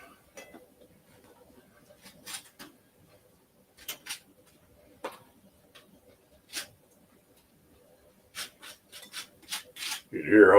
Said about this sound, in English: they're definitely nice and crispy, scraping the butter on them